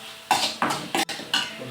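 Dates pickle mixed with chili powder using a spoon in a bowl: four or five distinct, evenly spaced scraping strokes, each a short bright clatter of metal on the dish, close and clear with no talking.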